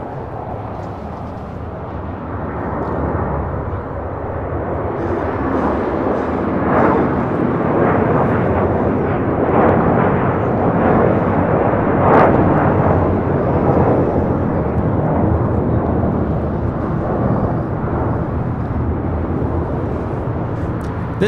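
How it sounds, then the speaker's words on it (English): An SAS Airbus A330-300 jet bound for Copenhagen takes off at LAX, its engines making a loud, sustained rumbling roar that swells slightly and then holds steady from a moderate distance. "This takeoff is SAS 932 taking off to Copenhagen on the A330-300."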